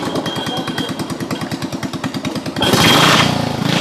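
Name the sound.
loud racing boat engine roaring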